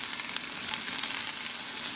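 Dry-packed home-canned ground venison sizzles loudly in a hot pan, a bright continuous crackling hiss held steady throughout, alone without talk.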